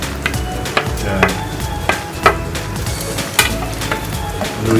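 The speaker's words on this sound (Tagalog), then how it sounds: "Haluin lang natin." Spaghetti sauce with vegetables and cheese is stirred in a pan, with repeated scraping strokes about every half second over a steady background sizzle.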